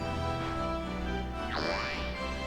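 Battle sounds from Final Fantasy Tactics play at normal speed: steady game music with sustained tones, and a bright sweeping spell effect that rises and fans out midway, loud and continuous with no talk.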